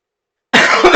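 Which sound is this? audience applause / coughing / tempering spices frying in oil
coughing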